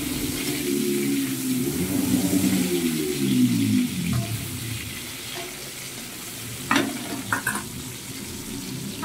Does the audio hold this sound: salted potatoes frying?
yes